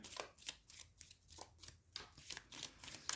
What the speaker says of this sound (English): This one's always an interesting one to try and shuffle, because it's kind of an odd shape.